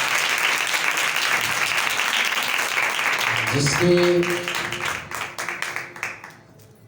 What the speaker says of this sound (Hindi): हम पाक रूह के लिए जोरदार तालियां पाएं